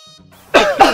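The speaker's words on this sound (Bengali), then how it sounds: "তোরা কাশি দিলি কেন" Two quick, harsh coughs burst out close and loud right after a brief stretch of soft tonal background sound.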